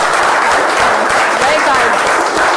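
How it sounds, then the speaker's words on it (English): Loud, sustained round of applause at a Toastmasters speech evaluation meeting, many hands clapping densely and close, with voices faintly mixed into the crowd noise. "So round of applause for her once again."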